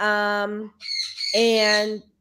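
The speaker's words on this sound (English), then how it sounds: "my birds are squawking." Pet birds squawk indoors in loud, harsh bursts, two close cries separated by a brief gap.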